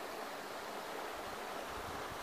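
A creek flows steadily beside a beaver trapping set in autumn, a continuous broadband rush with no pauses or talk.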